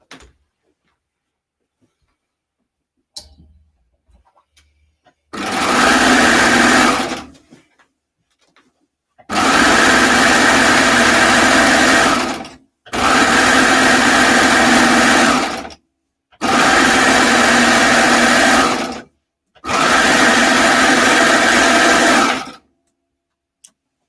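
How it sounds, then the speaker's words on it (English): An overlocker serges a raw fabric edge in five loud, close bursts of rapid whirring stitching separated by short pauses, after a few faint handling clicks at the start. "I'm just going to run this through the overlocker"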